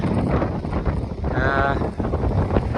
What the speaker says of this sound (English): The wind has certainly picked up, but yeah, still pretty